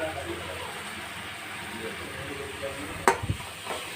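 Carrot halwa stirred in ghee with cashews, raisins and cardamom, a soft continuous sizzle and scraping in the pan, with a sharp clink of the spoon near the end.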